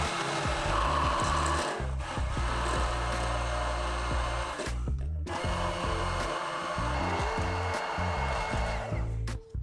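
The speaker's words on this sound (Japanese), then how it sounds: "さらにニンニクと生姜、砂糖も加えてブレンダーで玉ねぎを潰しながらよく混ぜていきます" Hand blender whirring loudly as it crushes onions with garlic, ginger and sugar into a spice marinade, a steady motor drone with a brief stop midway before it restarts, no talking.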